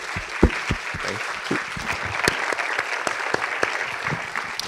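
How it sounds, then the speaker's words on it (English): Audience at a sustainable development workshop applauds a panel, a steady wash of many hands clapping in a room with a few louder nearby claps, sustained for several seconds. "Can we give the whole panel applause?"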